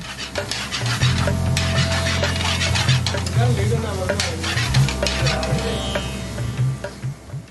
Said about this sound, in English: He mixes all the ingredients together.